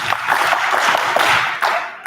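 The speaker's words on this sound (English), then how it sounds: "Everybody clap your hands." An audience at a conference keynote claps their hands together, a fairly rhythmic burst of many hands beating in loose unison, full and close, then quickly stopping.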